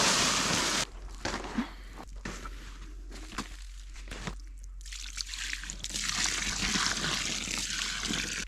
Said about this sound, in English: I'm pouring water in it anyway